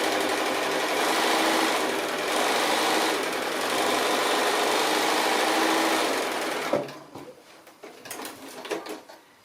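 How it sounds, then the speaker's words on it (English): Sewing machine stitching fat quarter fabric pieces together for a table runner, a steady loud motor whir for about seven seconds before stopping, followed by faint handling clicks. "So we'll stitch one together just so that you can see for sure."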